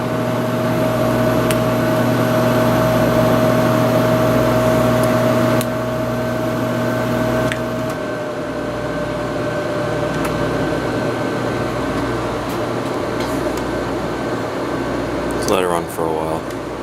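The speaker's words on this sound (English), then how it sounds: "Compressor just started." A Carrier 6200 BTU air conditioner's compressor runs with a steady, loud mechanical hum, its tone shifting and dropping slightly partway through before settling into an even drone.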